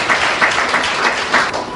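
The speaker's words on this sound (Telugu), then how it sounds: "గట్టిగా చప్పట్లు కొడదాం." A church congregation claps loudly together, a dense, steady wash of many hands at close range with a few sharper accented claps standing out, and no talk over it.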